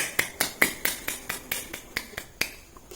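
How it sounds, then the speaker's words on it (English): Students in a classroom clap together in a slow, even rhythm, about a dozen crisp claps spaced evenly, fairly close and fading slightly toward the end, with no talking. "Give applause, please."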